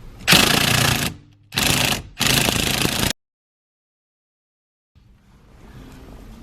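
Pneumatic impact wrench hammering loose the steering wheel bolt on a 2018 Buick Enclave, three loud close bursts of rattling blows with brief gaps, then silence and a faint low rustle.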